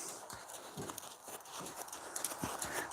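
A horse walking, with faint, irregular hoof clip-clops spaced about half a second apart against a hissy, noisy background.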